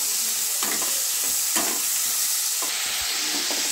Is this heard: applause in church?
no